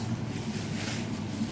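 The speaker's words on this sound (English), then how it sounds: "I have the air fryer going." A steady, low whooshing fan hum from an air fryer, constant and fairly quiet with no voices.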